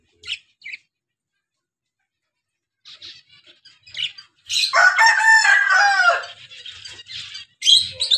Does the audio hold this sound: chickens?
yes